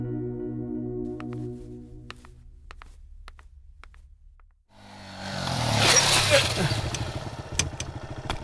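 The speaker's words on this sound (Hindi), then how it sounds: "पायलट की तरह चलाता ना बाइक।" A motorcycle is ridden in a South Indian thriller film: scattered clicks and a soft hum give way to a rising engine roar with revving and rumbling that grows louder and stays up close.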